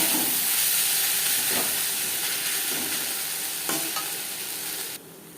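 Onions fry in a pan with ginger and green chili paste, salt and turmeric, giving a steady close sizzle and hiss with a few stirring scrapes before the sound drops suddenly near the end.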